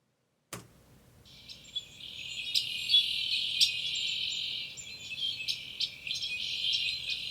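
Red-winged blackbird songs isolated from a Northern California field recording with iZotope RX, a high buzzy trilling band with scattered sharp chirps, fairly loud and continuous after a click at the start.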